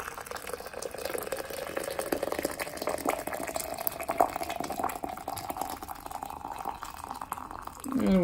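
Hot water poured into a French press in a home kitchen, a steady liquid stream with a rising pitch as the carafe fills, moderately close and continuous for several seconds.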